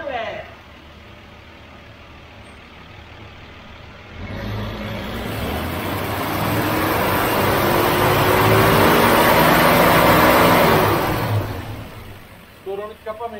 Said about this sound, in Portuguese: Estourou no escapamento, você viu?